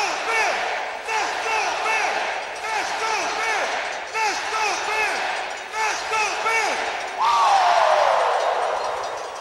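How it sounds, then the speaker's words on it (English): A hockey arena crowd roars and chants at Game 6 of the Calder Cup Final between the Hershey Bears and Texas Stars, a loud sustained wall of voices with rhythmic surges that swells near the end. "Some noise in here!"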